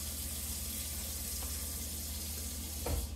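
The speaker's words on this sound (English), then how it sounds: "let me turn that water off" A kitchen tap runs in a steady broadband wash during home cooking, loud and continuous with a brief clatter near the end as it is shut off.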